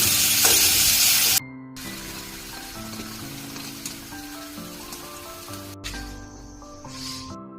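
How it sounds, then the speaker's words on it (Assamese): Onion frying in a little oil, with a loud, close sizzle at the start that drops away suddenly, then low background sounds and faint scraping for the rest. "প্ৰথম অলপ তেল দি কিনে পিঁয়াজটো ফ্ৰাই কৰি ল'ব।"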